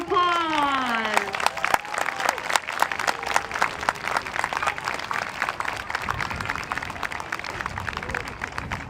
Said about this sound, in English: let's give our 5th grade a big round of applause